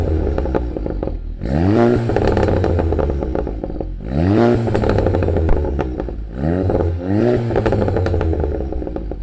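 A VW MK7 GTI exhaust blips loudly three or four times in quick bursts, each rev climbing and falling back to a rumbling idle, close and with no talking.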